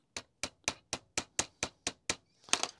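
Metal shafts are tapped into holes on a 1:18 scale Mitsubishi A6M Zero model kit. About ten crisp, light taps fall in an even rhythm, close and sharp, and a quick cluster of knocks closes the sequence.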